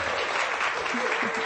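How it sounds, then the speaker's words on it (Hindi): Dense applause from a crowd, steady clapping filling the whole moment, with a voice faintly audible underneath. "तो इनको जोरदार तालियां"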